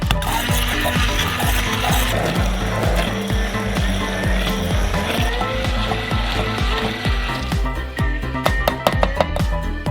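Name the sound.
immersion blender blending sauce until smooth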